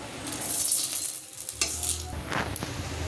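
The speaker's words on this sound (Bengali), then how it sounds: "এবার ওই তেলেই আমি গোটা শুকনো লঙ্কা, তেজপাতা আর গোটা জিরে ফোড়ন দিয়ে দেবো।" Whole dried red chillies, bay leaf and cumin seeds temper in hot oil left from frying potatoes, crackling and spluttering up close in uneven bursts with a couple of light utensil scrapes.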